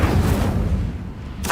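Incendio fire spell cast in Hogwarts Legacy, a single dense roaring blast that fills the short moment and fades slightly before a brief bright flare at the end, close and loud with no talking.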